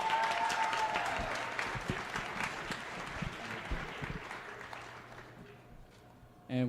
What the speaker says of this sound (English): Let's give another round of applause for our Secretary of the BSU